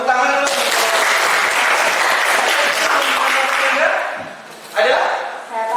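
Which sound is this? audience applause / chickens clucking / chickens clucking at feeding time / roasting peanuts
audience applause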